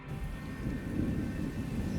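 Steady rain in a work camp, a dense low rushing wash with no clear individual drops, moderately loud and continuous throughout with no voices.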